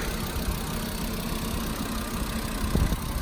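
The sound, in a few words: car engine idling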